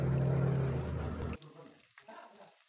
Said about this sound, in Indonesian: kita goreng terlebih dahulu bawang putihnya.